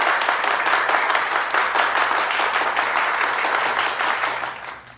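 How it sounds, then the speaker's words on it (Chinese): An audience at a company event welcoming a new member breaks into dense, sustained applause, many hands clapping loudly and evenly before it begins to fade at the end. "大家鼓掌。"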